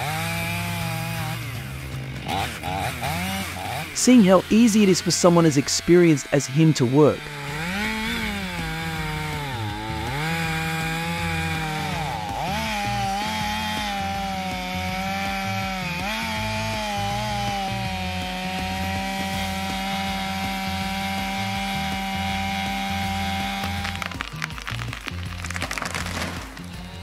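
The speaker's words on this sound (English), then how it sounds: "showing people how to cut a tree with a diameter larger than the saw bar" Chainsaw sawing through a large tree trunk wider than its bar, loud sustained engine whine with revving swings and cracking wood early on, a voice speaking over it.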